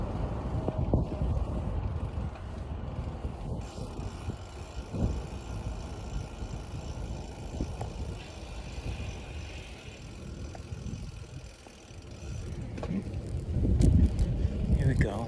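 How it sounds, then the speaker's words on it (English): Steady low buffeting wind noise roars across the mic throughout an outdoor bicycle ride, near and fairly loud, dipping briefly before swelling again at the end, with occasional bumps and faint rustles. "Let's get out of this wind."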